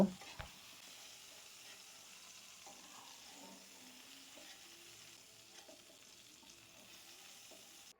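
Prawns frying lightly in mustard oil give a quiet, steady sizzle that holds evenly through the clip, with a soft knock near the start and no voices.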